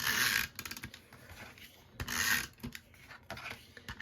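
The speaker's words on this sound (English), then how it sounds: "Being extra generous with my tape runner today because I want to make sure that this sticks really good" A tape runner dispenses adhesive onto paper in short, scratchy rubbing strokes with faint ratcheting clicks, several quick passes close up and quiet, with brief pauses between them.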